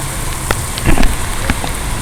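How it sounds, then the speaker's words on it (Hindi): Steady rain falls outside an apartment in Lahore, a loud, dense hiss with scattered close drops and taps on nearby surfaces. "बहुत मज़ेदार बारिश हो रही है भाई यहाँ पर"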